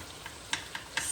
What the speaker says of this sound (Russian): Все, лучок жарится.